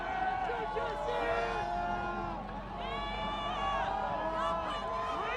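A large outdoor crowd at a Michigan national championship parade near Schembechler Hall, steady babble with cheers and whoops rising throughout, close and loud, with voices shouting over the din.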